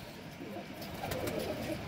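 A prize-winning female racing pigeon from a Punjab village gives a soft, low coo close by against a steady background hum.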